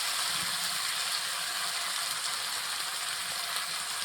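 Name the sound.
frying meat in oil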